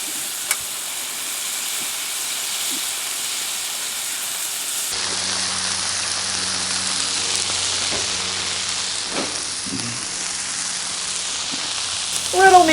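Burgers sizzle on a Blackstone griddle, pressed flat against the hot surface, giving a steady broadband hiss that swells louder partway through, with a brief voice near the end.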